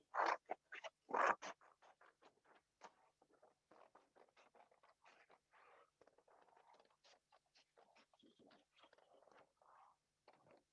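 Scissors snip around a painted paper flower in a run of quick, close, crisp cuts, louder at first and then settling into a steady, lighter series of small snips.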